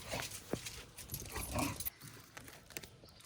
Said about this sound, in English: the puppy dogs are out here and they are playing